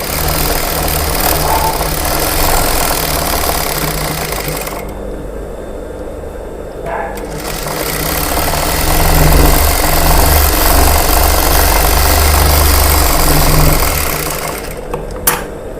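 A tailor's sewing machine stitches a plain blouse, whirring steadily and close up, easing off briefly in the middle before running on at full speed.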